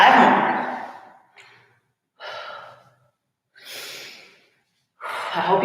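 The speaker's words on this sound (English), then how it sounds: "I hope you have music again so you don't have to listen to my breathing." Heavy, labored breaths from someone in the middle of a live lower-body workout: four separate bursts of panting exhales and gasps with short silent pauses between, close to the mic and with no speech.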